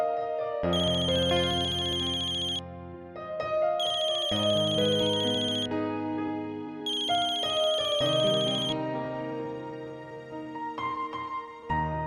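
A telephone ringtone rings in three repeated bursts of a bright electronic melody, loud and close, with no talking over it.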